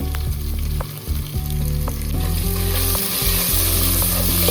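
Ginger garlic paste hitting hot oil in a pan of broccoli fry, a loud close sizzle with crackling pops and occasional stirring scrapes throughout, no talking.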